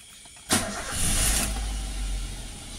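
A Toyota Avanza, just fitted with a repaired alternator, cranks briefly and fires up, then settles into a steady mid-pitched idle close to the microphone, with a bright whine over the first second.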